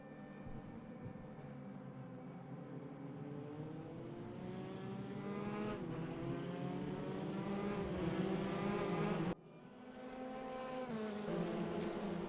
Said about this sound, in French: Enzo Filippo est déjà revenu dans la roue de Vince la Tortue et le passe sans problème au bout de la ligne droite.